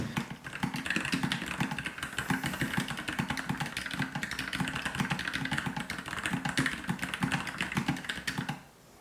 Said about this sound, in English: Let's actually do a typing speed test to see what I can get.